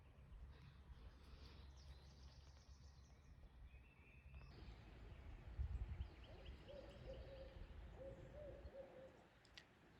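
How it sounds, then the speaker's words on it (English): A barred owl hoots in the woods during a morel mushroom hunt, a faint, distant series of low calls over a steady outdoor hiss, with no talking. "It's a barred owl. It says, "Who cooks for you? Who cooks for you too?""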